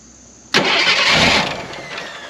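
An old 1979 Jeep engine, abandoned for over thirty years, cranks briefly and catches, settling into a loud, rough idle close by that slowly fades.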